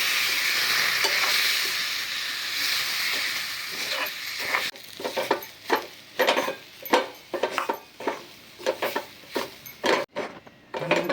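A spoon scrapes and stirs Purnashakti atta and semolina with milk in a pan, first a steady broadband hiss, then about a dozen rhythmic scraping strokes close by, with no talking.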